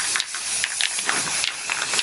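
A spray paint can hisses loudly and close in repeated short bursts, with faint rattling clicks between sprays and no talk.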